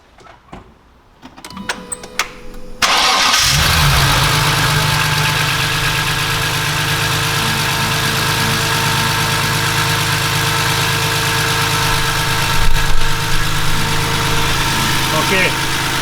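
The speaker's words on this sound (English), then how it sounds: "So let's start up the engine and see what number we're going to get." A car engine with engine mounts cranks and catches after a few seconds of quiet clicking, then settles into a loud, steady, close idle with a low vibrating hum and a brief bump near the end.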